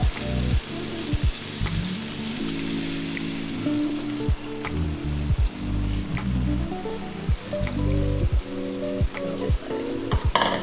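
Shrimp sautéing in a pan with seafood stock, a continuous crackling sizzle with spattering bursts, heard close over a steady tonal background without voices.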